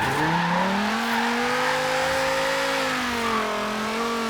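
A Dodge Viper ACR engine howls continuously while drifting in Forza Horizon 3, its pitch climbing, holding, then dipping and rising again as the throttle is worked, loud and close, with a faint hiss of tires underneath.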